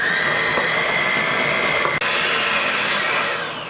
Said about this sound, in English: adding my butter to my bowl, my sugar, and then I'm gonna mix this until creamy